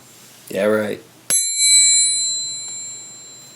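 A small pyramid-shaped bell is struck once, giving a bright, close ding that rings on with a long, slowly fading sustain, just after a brief burst of speech.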